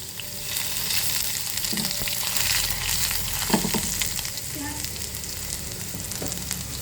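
Crushed garlic and ginger hit hot ghee with cumin and dried chilli for dhaba-style dal tadka, a steady close sizzle with faint stirring and scraping in the pan.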